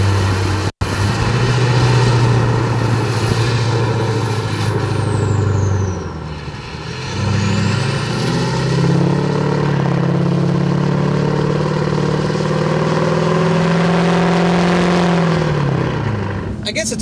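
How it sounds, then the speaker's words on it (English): A tuned 2006 LBZ Duramax diesel truck drones steadily from inside the cab, its engine pitch sliding down and then rising again as it downshifts and revs, loud and continuous with a brief dip midway. "As it downshifts, it's awesome."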